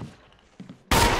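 A gunshot in the Resident Evil HD Remake video game lands as a headshot: one sudden loud blast that cuts in after quiet game sounds and rings on to the end.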